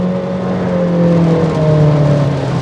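A 2025 Acura ADX accelerates across a parking lot, its engine note a loud, close, steady drone that rises gradually in pitch, with no voices.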